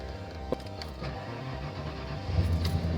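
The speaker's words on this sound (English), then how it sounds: "So let's fire up the truck here." A truck engine cranks briefly and catches, then settles into a low rumbling idle, close by with no talk.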